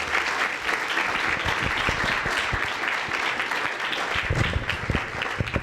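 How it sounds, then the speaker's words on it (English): Audience applause at a university debate on water rights, steady dense clapping from a crowd filling the whole span without a break. "we want to give her a big round of applause"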